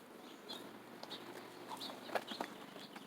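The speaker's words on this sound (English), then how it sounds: "Got some chickens." Backyard chickens make soft clucks and short chirping calls close by, scattered irregularly over a quiet background.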